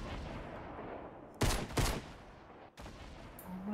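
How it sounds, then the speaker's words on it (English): Gunfire in the Fortnite battle royale video game: two close bursts of shots a moment apart, followed by another sharp crack after a pause, standing out over steady game background noise. "It sounds like they're being shot at."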